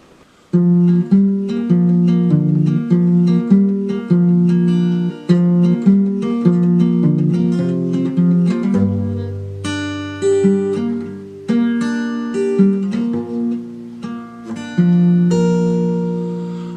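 A slow acoustic guitar melody with steady chords and a lower bass line entering midway, played continuously and fairly loud with no voices; the verse and chorus of a folk song, slowed down.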